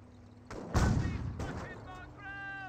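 Small arms fire in the Company of Heroes strategy game, a couple of loud booming shot bursts with rumbling tails over a faint background, with game voice audio mixed in.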